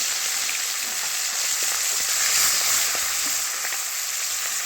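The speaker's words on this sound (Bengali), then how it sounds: "এবার একে একে করে মাছগুলো দিয়ে দিচ্ছি" Fish pieces laid one at a time into hot, lightly salted oil in a pan give a constant, dense close-up sizzle with no talk.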